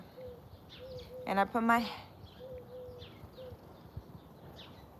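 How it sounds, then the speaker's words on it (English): Soft, low owl calls repeat several times in the distance, heard from indoors during a bath, with a person speaking briefly over them. "Are you guys able to hear the owl calling?"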